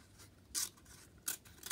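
Scissors snip through paper or card while a craft model of a grandmother's house is assembled, three short crisp cuts standing out clearly against a quiet background.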